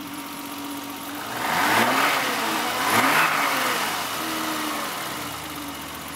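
A BMW 325i E30 with its stock airbox idles, then revs up twice in smooth swells before settling back, heard close and steady without any voices.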